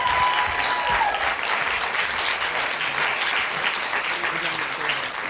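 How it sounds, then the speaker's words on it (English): Steady, full applause from a television quiz show studio audience after the winning contestants' performance, a dense continuous wash of clapping holding evenly throughout. "Give them a round of applause."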